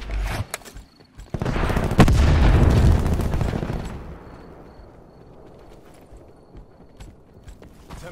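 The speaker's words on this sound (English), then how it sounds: "Our robot is under fire." Gunfire strikes a robot in the video game MADDOX RFB: a loud, dense burst of rapid shots and impacts swells for a couple of seconds, then fades into scattered sharp hits and a thin electronic tone.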